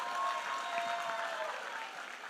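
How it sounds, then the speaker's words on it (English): Audience applause at a musical dance drama performance, a brief, fairly distant wash of clapping that tapers slightly at the end. "Please give a loud round of applause for these creative heads"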